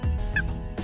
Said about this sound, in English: To make a cluck, drag the lid in short, fast motions.